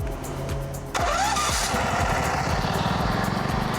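A DuroMax XP15000HXT+ EFI generator engine, running on gasoline, turns over and catches about a second in, then settles into a loud, steady idle with a rhythmic chugging.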